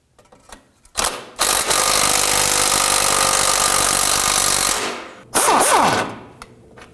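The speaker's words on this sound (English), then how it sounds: "we're going to heat this up and then put our impact gun on it" An impact gun drives a heated sway bar link nut on a 2005-2009 Subaru Legacy, giving a loud, close, sustained mechanical whir for several seconds, then a shorter second burst that spins down.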